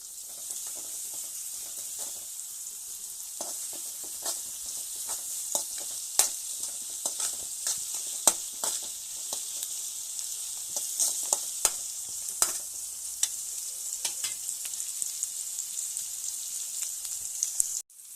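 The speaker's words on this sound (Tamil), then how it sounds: "உப்பு சேர்த்து சிம்மில் வச்சு கொஞ்ச நேரம் நல்லா வதக்கி உள்ள போகிறோம்" Chicken gravy ingredients sautéing with salt in a pan over a low flame: a soft, continuous sizzle with scattered stirring scrapes and taps, fairly close and quiet, with no talking.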